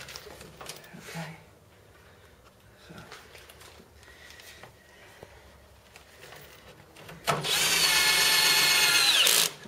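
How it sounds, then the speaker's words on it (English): A power drill drives screws into a Euro guest bed frame during assembly, a loud sustained whine bursting in near the end after a stretch of quiet handling sounds and light taps. "he's just going around putting all the screws in"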